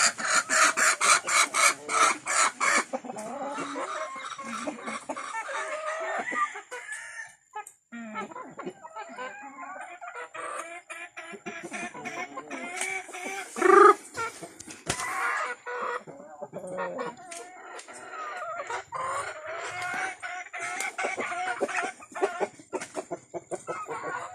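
Black Australorp chickens cluck and chatter nearby at their nest in a busy, continuous flurry of short calls, with scratchy rustling mixed in.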